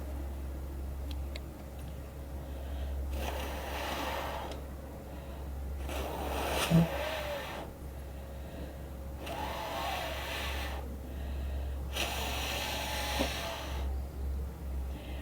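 Breath is blown across a sheet of paper in four soft, airy gusts a few seconds apart, each a faint whooshing rush over a steady low room hum.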